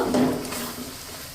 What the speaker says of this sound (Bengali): কাজু বাদাম আর সাদা তিলের যে পেস্ট বানিয়েছিলাম সেই পেস্টটা দিয়ে আমি একটু নেড়ে চেড়ে কষিয়ে নেব